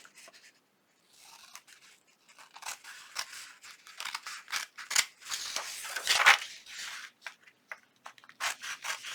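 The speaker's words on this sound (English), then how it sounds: "I'm going to turn it over and I am going to trim." Scissors snipping around the corners of paper pockets for a junk journal with lace trim, a close series of short crisp cuts and rustles that grow denser and louder toward the middle, with no talking.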